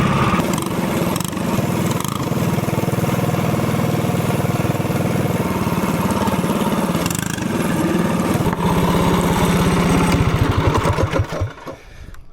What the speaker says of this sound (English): The motor seems to be running really good though.